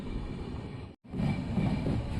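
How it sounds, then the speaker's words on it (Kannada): An Indian Railways train waits at the outer signal of Birur Junction, giving a steady rumbling drone of rolling stock that cuts out briefly midway and then resumes a little louder. "ಫ್ರೆಂಡ್ಸ್ ನಮ್ಮ ಟ್ರೈನ್ ಈಗ ಬೀರೂರು ಜಂಕ್ಷನ್ ಔಟರಲ್ಲಿದೆ"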